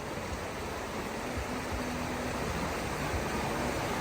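Cold, clear stream water flows steadily near Bo Kluea in Nan, Thailand, making a close, even rushing hiss that never pauses, with no voices over it.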